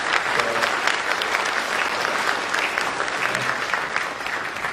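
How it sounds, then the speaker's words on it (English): An audience at a school orchestra Christmas concert applauds student musicians, a full, steady roar of clapping from many people throughout, without any talking. "give them a round of applause"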